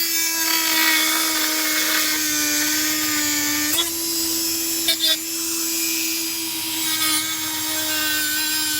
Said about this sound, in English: grind them off with a Dremel, grinding these things off one by one